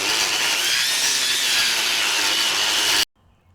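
A Milwaukee Quik-Lok 18-volt battery edger attachment cuts a lawn border along landscaping stone, giving a loud, steady, close-up high-pitched whirring and grinding drone that stops abruptly near the end.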